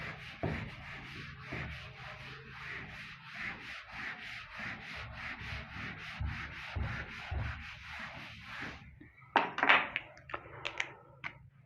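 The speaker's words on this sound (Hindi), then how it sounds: "इसको भी रब कर देता हूं मैं।" A duster rubbing writing off a classroom board in a quick run of rhythmic back-and-forth strokes, followed by a few taps and knocks.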